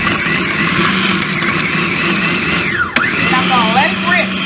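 A kitchen blender whirs loudly while pulsing chicken liver pâté ingredients, a steady close motor drone that wavers in pitch, briefly cuts out, then spins up again, with a person talking over it.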